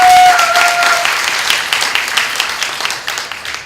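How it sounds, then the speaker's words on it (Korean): Audience applause after a family is praised at a gathering: dense sustained clapping from a crowd, starting loud and gradually thinning and fading over a few seconds, with a brief tone at the start. "박수 한번 주세요"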